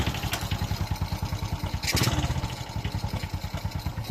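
Honda XRM 125 single-cylinder motorcycle engine idling after a top overhaul, a steady close putter of rapid even firing pulses with a brief mechanical clatter midway.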